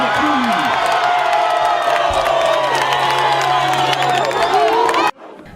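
An ecstatic crowd cheers and shouts continuously at a Julius Malema political rally, a dense, loud roar of many voices with whoops, holding steady for about five seconds before cutting off abruptly.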